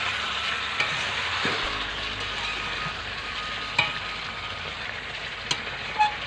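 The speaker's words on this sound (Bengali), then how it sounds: "এই দেখো মাংসটা ভালো করে কষিয়ে নিচ্ছি" Meat sizzles as it fries in a pan with spices and is stirred, giving a steady bright hiss broken by occasional scraping clicks of the spoon. The sound is close and there is no talking.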